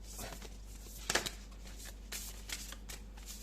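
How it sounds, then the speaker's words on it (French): Tarot cards being shuffled by hand in a quiet room, a soft continuous riffling patter with a few sharper snaps near the middle, close and fairly faint. "J'espère que je fais pas trop de bruit avec les cartes."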